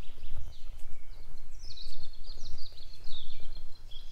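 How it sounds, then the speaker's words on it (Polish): Many birds chirp and trill along a path to the dunes in Słowiński National Park, several overlapping high calls against a low rumble of wind and movement. "Tutaj non-stop odbywa się koncert ptaków"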